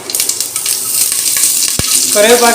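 Mustard seeds, cumin, urad dal and curry leaves sizzling in hot oil for Kurnool-style uggani, a loud continuous crackling fry with stirring scrapes and a sharp pop near the end.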